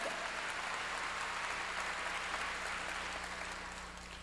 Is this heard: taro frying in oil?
no